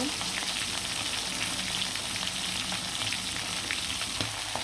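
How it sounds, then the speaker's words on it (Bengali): Chicken pieces coated in turmeric and salt fry in hot oil with a steady, dense sizzle and occasional crackles, close and continuous throughout with no talking. "তেলের মধ্যে দিয়ে দিলাম কিছু টুকরো মাংসগুলো হলুদ আর লবণ দিয়ে মাখানো দিয়ে ভালো করে লাল লাল করে ভেজে নিব"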